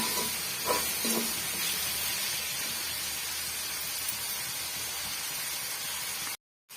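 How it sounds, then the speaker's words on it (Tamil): Tomatoes with salt sauté in a pan for a potato rice dish, giving a steady close sizzle and hiss throughout with a few faint stirring clinks early on, no voices. "தக்காளி பழம் ஓரளவுக்கு மசிஞ்சு வர்ற வரைக்கும் நம்ம வதக்கி விட்டுக்கலாம்."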